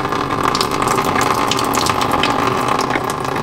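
Diesel fuel draining from a John Deere 35D compact excavator during filter servicing, a steady continuous liquid rush and splatter, loud and close, with no talking.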